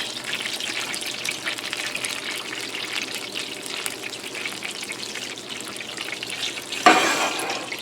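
Steady crackling sizzle of breaded pork chops frying in light olive oil and butter over a moderate flame, continuous throughout, with a brief louder burst of spattering near the end.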